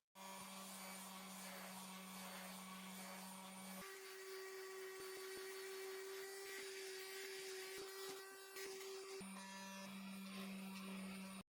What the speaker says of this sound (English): just to handle this round bit, I think we'll use a smaller orbital sander.